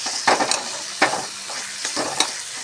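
Spices with coriander powder being fried and stirred in a pan for Punjabi-style rajma, a steady close sizzle broken by repeated spoon scrapes and knocks.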